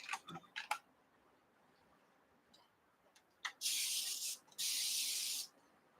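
A few clicks and rustles, then two long hissing bursts from a spray bottle onto pieced quilt seams, close and loud, each lasting about a second.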